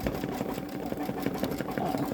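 A Babylock Solaris Vision sewing machine stitches a butterfly design into a stretchy sweater, giving a fast, steady mechanical whir with rapid rhythmic needle clatter, close and constant.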